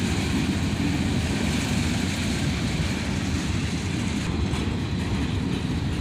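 A CSX freight train with a covered hopper car rolls past close by, a loud, steady rumble and roar of wheels on rail that holds for the whole stretch.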